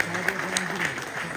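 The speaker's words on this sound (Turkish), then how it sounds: "Alkış istiyorum." Brief burst of crowd applause at a stage event celebrating the liberation of Akçaabat, with steady clapping mixed under a voice and tonal background sound.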